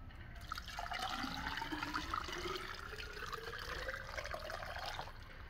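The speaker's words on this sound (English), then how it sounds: "So I'll go ahead and pour a little bit in here." Liquid poured into a container during a home chemistry setup for making perchlorate propellant from salt: a faint, steady trickling and splashing that runs unbroken for several seconds, with no voices.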